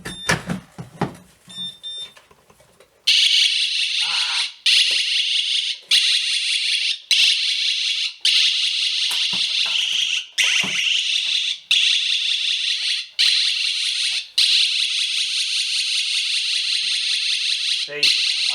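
A loud, piercing electronic alarm from a miGuard G5 home alarm, set off by removing the alarm pad from the wall, blares in rapid repeated pulses, near and continuous, after a few seconds of handling noise.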